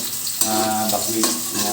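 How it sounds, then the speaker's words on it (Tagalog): Steady crackling sizzle of fish frying in hot oil, continuous and close, with faint clinks over the top. "Prito na lang itong ikan."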